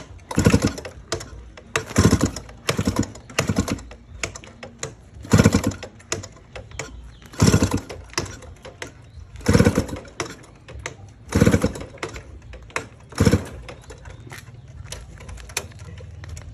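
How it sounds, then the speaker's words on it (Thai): A small engine with a freshly replaced spark plug is cranked again and again without catching: about nine loud, rhythmic pulls, each a short sputtering burst that dies away, close by, with no talk. "สรุปเปลี่ยนหัวเทียนใหม่ ก็ยังสตาร์ทติดยาก ตอนนี้ไม่ติดด้วย"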